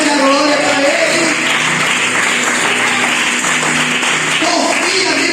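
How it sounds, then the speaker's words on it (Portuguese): A church congregation claps together during a preaching service, a dense, continuous patter of many hands filling the room at full volume for several seconds. "Quem crê que Deus tem algo grande para a tua vida? Bate palmas de glória para Ele."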